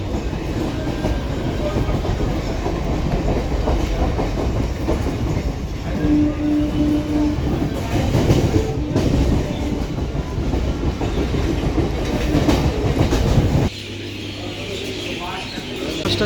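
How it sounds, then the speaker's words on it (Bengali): Tarakeswar local passenger train arriving at a station platform, a loud continuous rumble with rhythmic clickety-clack of wheels over rail joints, people talking nearby, the noise dropping abruptly near the end. "তারকেশ্বর লোকাল এসে গেছে, তারকেশ্বর যাওয়ার জন্য।"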